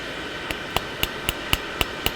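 Blacksmith's hammer tapping metal, eight evenly spaced, sharp ringing strikes about a quarter second apart, close and clear over a faint background hiss, with no talking.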